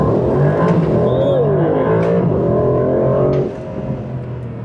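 An Aston Martin DB12 S makes a launch-control race start, its engine roaring loudly and climbing in pitch through the gears before easing off near the end.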